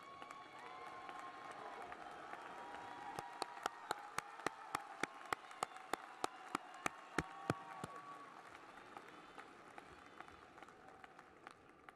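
Graduating STAR scholars receive applause at a City Colleges of Chicago commencement ceremony, with a crowd clapping steadily throughout and a run of loud, sharp individual claps standing out in the middle.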